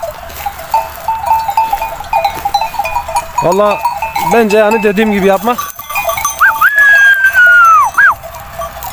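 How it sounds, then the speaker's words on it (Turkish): Native goat buck and sheep bleating in a farm pen, a few wavering bleats rising over steady background noise, with someone talking in Turkish over them. "Bakın bıraktılar teke bu sene, yerli keçi teke yani."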